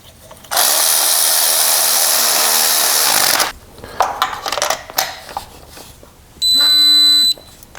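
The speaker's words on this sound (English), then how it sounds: "Install the new spark plug." A new spark plug goes into a Kia 2.4L GDI engine with a loud, steady powered whirr for about three seconds, then clicks and handling noises, and a second shorter tonal whine, with no talking.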